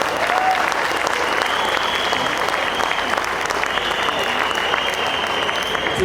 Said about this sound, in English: can you please join me in giving a big round of applause to our unsung heroes